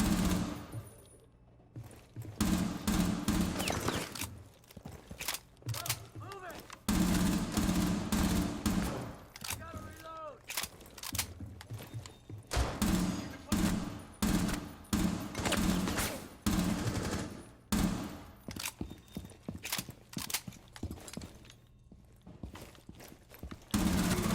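Rapid bursts of P10 RONI submachine gun fire in Rainbow Six Siege on console, repeated volleys across the stretch with short pauses between, loud and close, over a steady game ambience.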